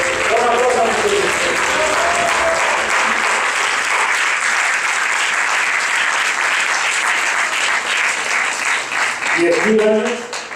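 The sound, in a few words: applause for Christ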